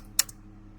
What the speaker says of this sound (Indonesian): Kita bisa ketikkan chmod